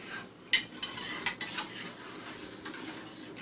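A spoon clinks and scrapes a few times against a pot of milk being stirred as it warms for banana pudding, with quiet taps in the first couple of seconds and then a soft lingering hum.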